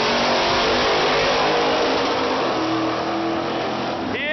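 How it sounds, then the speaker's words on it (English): A drag racing car engine revs hard and loud into the rev limiter in third gear, a continuous roaring, bouncing drone close by that holds steady throughout. "He hit the rev limiter into third."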